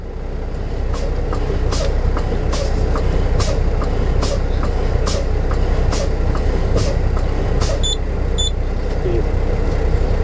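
Truck air brake pumped repeatedly during a pre-trip inspection, a steady series of sharp hissing air bursts at roughly regular intervals over a constant engine rumble, fairly close.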